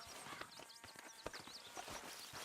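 Horse hooves clip-clop in the Red Dead Redemption 2 video game, a quiet, steady walking rhythm of soft knocks set against an outdoor ambience with faint birdsong.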